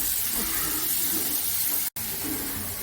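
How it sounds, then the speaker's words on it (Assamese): Finely chopped capsicum fries in melted butter in a hot pan, giving a steady, close sizzling hiss that runs continuously apart from a brief cut near the end. "এতিয়া বাটাৰটো দি মই কেপচিকাম সৰু সৰুকৈ কাটি লৈছিলোঁ। কেপচিকামখিনি অকণ ভাজিম।"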